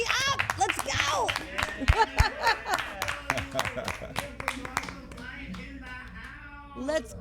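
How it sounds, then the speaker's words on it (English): A talk show audience claps in a burst of sharp, uneven hand claps that thin out after a few seconds, while a host's voice and a few excited shouts carry over the top. "Give yourself a round of applause."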